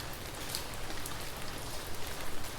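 Steady rain falls in a dense, even hiss, with soft scattered droplet taps on a surface, continuous and close with no voices.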